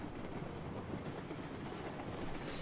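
Train rolling along rails with the throttle cut, coasting steadily in Railroads Online, a continuous low rumble with faint rhythmic clatter and a brighter hiss rising near the end, no talk.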